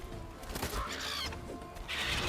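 A chicken in the Witcher 3 video game clucks in short bursts over steady game ambience and background music, with a brief crash partway through.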